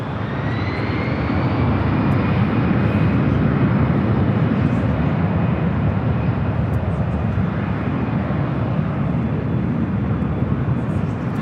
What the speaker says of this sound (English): This takeoff is Delta Airlines 2120 taking off to Las Vegas on the A319.